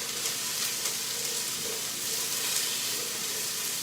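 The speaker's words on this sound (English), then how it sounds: "I'm going to stir this up a little bit and let that cook" Chili simmers in a pot after a stir, giving a soft, steady sizzling and bubbling hiss, faint and continuous with no talk over it.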